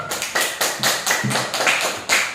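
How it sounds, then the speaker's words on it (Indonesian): Students in a classroom reading lesson applaud a classmate, a brief burst of loose, rhythmic clapping from a small group, close and fairly loud, lasting a couple of seconds. "Tepuk tangan dulu untuk teman kalian"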